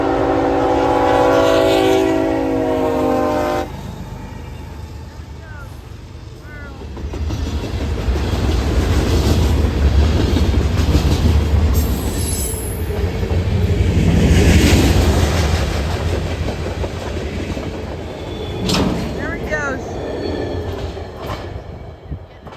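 A freight train passes a level crossing near Palmetto, Georgia. Its horn blows near at the start, then a loud rumbling roll of wheels and clattering cars continues for about twenty seconds.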